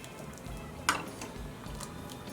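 A cooled, pressure-cooked vegetable mixture for North Karnataka bajji palya being mixed in a pan: soft scraping and stirring with one sharp utensil clink partway through, quiet and close, with no talk.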